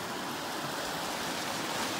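A river that has dropped about a foot but is still running high roars steadily at a fishing spot, a constant, even rush of water with no breaks, heard softly and alone.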